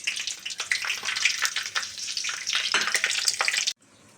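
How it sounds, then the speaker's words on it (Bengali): Bay leaf, whole garam masala, a dry red chilli and cumin tempered in hot oil for tandoori malai paneer, a loud crackling sizzle with sputtering bursts that drops off abruptly near the end. "এরপর তেজপাতা দেব, গরম মশলা গোটা, একটা শুকনো লঙ্কা আর সামান্য জিরে ফোড়নে দিয়ে দেব।"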